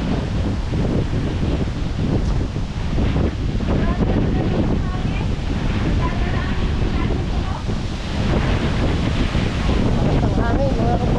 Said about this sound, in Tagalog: Ang hangin mga brother. Parang may bagyo rito sa amin.